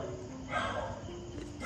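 A dog barks and whines faintly in the distance during an early-morning home routine, short yelping calls over quiet room background.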